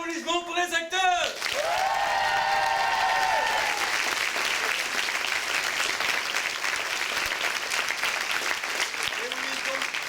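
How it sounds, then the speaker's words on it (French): A medical students' revue audience applauds the actors with a big, sustained burst of clapping, with a few cheers and whoops. Voices are heard briefly at the start and again near the end. "je vais vous demander un méga applaudissement pour les acteurs"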